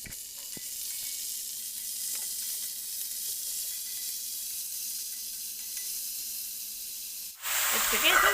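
Potatoes sizzle steadily in a pan at a moderate level, then mushrooms go in near the end and a sharp, louder burst of hissing frying breaks out.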